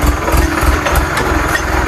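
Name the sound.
tractor engine idling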